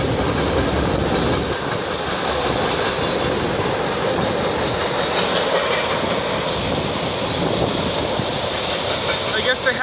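A CP or CN freight train rolls past in Milton, Ontario, a distributed-power locomotive mid-consist, with a continuous loud rumble and steady wheel clatter close by, brief voices speaking over it.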